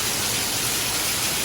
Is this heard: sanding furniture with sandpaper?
no